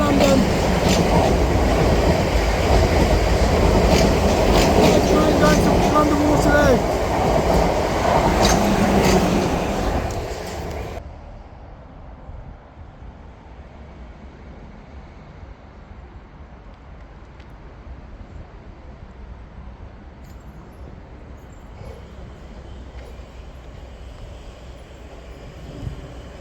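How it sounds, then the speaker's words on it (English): A train rumbles loudly through St Denys station, with rolling wheel noise filling the first ten seconds before it fades away. Quieter station ambience follows. "Train going to London Waterloo."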